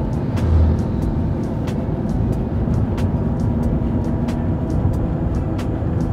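A 2018 Wuling Confero with the air conditioning on, at about 60,000 km, climbs a steep hill in third gear with a steady engine drone and road rumble under light, even throttle, with faint clicks in the cabin.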